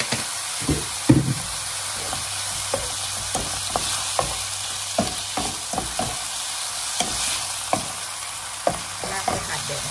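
Pork with ginger is stir-fried in a pan, with frequent irregular clacks and scrapes of the spatula over a continuous close sizzle.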